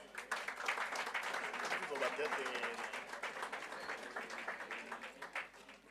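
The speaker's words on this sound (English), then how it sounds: "Let's give the band a round of applause." An audience at a conference gala dinner applauds the band, a steady wash of many hands clapping that carries on for several seconds before gradually thinning toward the end.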